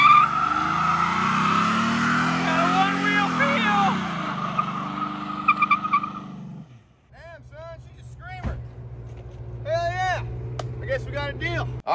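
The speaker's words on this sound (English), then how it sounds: "you got to make sure it can do a proper burnout. Because if she can't squeal, we ain't got a deal." A cheap project car does a burnout: a loud, rough engine roar and tire noise for several seconds, then idling with scattered high chirps and squeals nearby.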